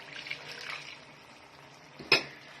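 Water is poured into a pot on the stove for kadai rice, a soft hissing wash followed by a brief clank of metal, close and fairly quiet.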